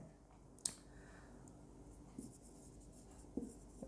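Chalk or marker writing on a board during a soil lecture, faint scratchy strokes with a few light taps and clicks at a distance in a quiet room.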